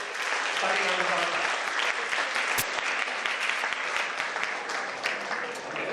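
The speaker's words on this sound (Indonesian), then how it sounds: "Kita beri aplaus buat Pak Sandiaga Uno." Audience at a motivational talk applauding Sandiaga Uno, steady dense clapping filling the room without a break, loud and close, with a sharp click partway through.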